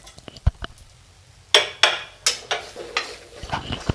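A spoon scrapes and knocks against a pan as turmeric, chili, asafoetida and fenugreek powders are stirred for Kerala ginger curry, a run of close, sharp strokes that fade into lighter taps.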